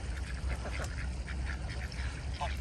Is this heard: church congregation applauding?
no